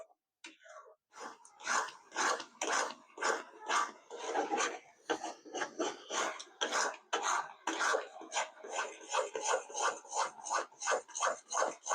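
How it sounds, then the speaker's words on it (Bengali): A spoon scrapes steadily through a thick coconut mixture for sandesh in a pan on a gas flame between medium and low, giving close, rhythmic rasping strokes that repeat continuously with no talking. "ঠিক এইভাবে করে নেড়ে ছেড়ে সমানে পাক দিতে থাকবো"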